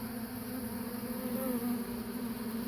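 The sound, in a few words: honeybees buzzing at open-air pollen feeder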